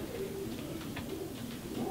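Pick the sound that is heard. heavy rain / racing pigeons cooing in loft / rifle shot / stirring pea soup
racing pigeons cooing in loft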